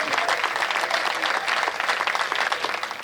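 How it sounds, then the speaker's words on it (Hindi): Audience at a Hindi stand-up comedy show breaking into applause, loud dense clapping sustained across the whole stretch, with faint crowd murmur beneath. "दोस्तों तालियां तो अब उठाना।"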